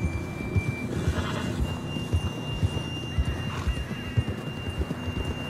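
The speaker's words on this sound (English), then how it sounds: "John was riding that horse when we left Blackwater." Hooves clip-clop steadily at a gallop over a low ambient bed, with a horse neighing partway through, game audio from Red Dead Redemption 2.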